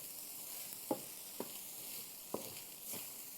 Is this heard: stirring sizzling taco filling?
yes